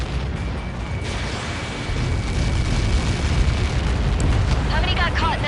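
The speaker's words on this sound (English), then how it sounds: "How many got caught in that explosion?" A huge explosion in the video game Ace Combat 7, a deep, sustained roaring blast that fills the clip, loud and continuous with rumbling low end and a crackling wash on top, no talking.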